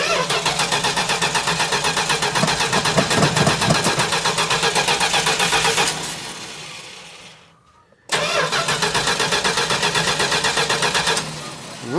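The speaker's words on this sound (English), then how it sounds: "It's not even going with starter fluid." A 1969 Plymouth Roadrunner engine cranks hard on its starter after a blast of starter fluid, a loud steady rhythmic churning that never catches, stops for about two seconds, then cranks again.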